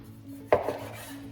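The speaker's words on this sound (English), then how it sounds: "So I'm just going to cut up my meat." A knife cuts through pork shoulder meat on a board, one short sharp chop against a quiet background.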